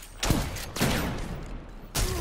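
An Arbalest and a shotgun fire in a Destiny video game match as three sharp, moderately quiet shots spaced unevenly over a couple of seconds.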